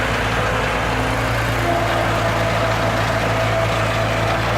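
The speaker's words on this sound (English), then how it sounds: "Bobcat, Clark 743, skid steer, Kubota diesel power. There she goes." A Bobcat Clark 743 skid steer with a Kubota diesel engine runs steadily nearby, a loud constant throbbing drone with low rumbling tones and no talk.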